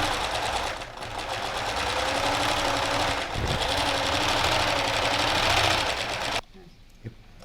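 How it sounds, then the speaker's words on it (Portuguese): A sewing machine runs steadily for about six seconds, sewing a straight stitch through felt for a small children's teddy bear bag, then stops abruptly; a voice speaks over the whirring motor. "Eu vou fazer a máquina porque ele é mais rápido"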